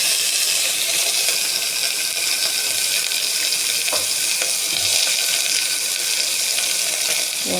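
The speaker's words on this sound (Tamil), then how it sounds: "வெங்காயம் போட்டுக்கிட்டு நல்லா வதங்கணுங்க." Onions sautéing in a pan with fennel seeds and cinnamon for vegetable rice, a steady, dense sizzling hiss that runs throughout with faint scattered clinks and no talking.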